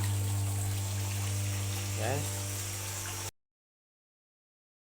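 A motor-driven water pump drains a fish pond, giving a steady hum with a strong low drone and a brief splashy burble near the middle, then cutting off abruptly to silence; a voice murmurs briefly.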